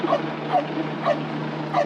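Dog barking in four evenly spaced sharp yips, fairly loud and close, over a steady hum of background noise.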